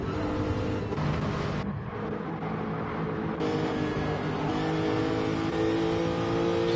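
Several race cars in a Gran Turismo-style Gr.4 racing game duel at Watkins Glen, their engines droning and revving steadily and loud throughout, with the note dipping briefly before picking back up.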